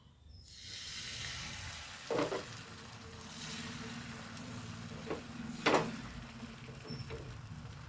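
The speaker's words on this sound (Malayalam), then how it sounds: "ദോശക്കല്ല് ചൂടാക്കുന്നത് ഞാൻ ഈ രണ്ട് മുട്ട അതിലേക്ക് ഒഴിച്ചു കൊടുക്കണ്ടേ" Two beaten eggs go onto a hot dosa griddle, giving a soft continuous sizzle with a few brief louder crackles and a faint scrape.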